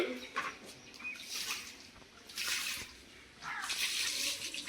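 Water poured from a bucket over a dog splashes down in three or four uneven pours, fairly close, with quieter dripping and rustling between the gushes.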